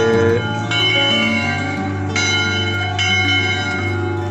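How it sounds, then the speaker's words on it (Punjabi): A church bell at Mariyamabad rings loud and close, with fresh strikes landing every second or so over a long, humming resonance that never fully fades, with no voices. "ਮੈਨੂੰ ਲੱਗਦਾ ਮੇਰੇ ਤੋਂ ਜ਼ਿਆਦਾ ਟੱਲੀ ਦੀ ਆਵਾਜ਼ ਆ ਰਹੀ ਹੈ"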